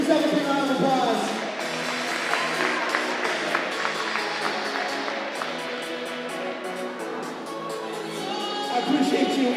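A crowd at a school presentation claps and cheers in a dense, sustained wash of applause that holds steady throughout, mixed with voices and tonal sound underneath, swelling slightly again at the end.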